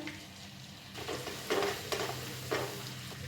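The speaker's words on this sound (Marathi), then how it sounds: "दहा पंधरा लसूण पाकळ्या मी इथं बारीक अशा ठेचून घेतले त्या घालूया" Ten to fifteen crushed garlic cloves frying with cumin in butter and oil for masala pav, giving a quiet, close sizzle broken by a few short bursts of stirring and scraping.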